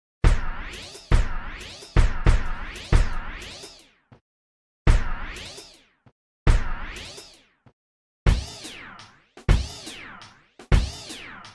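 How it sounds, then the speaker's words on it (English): A Kontakt synth tone in a beginner sampler tutorial, its pitch swept by an inverted LFO so it dips down rather than up, repeating in loud, wavering bursts separated by short gaps of silence. "if this is inverted, it's going to move down instead of up."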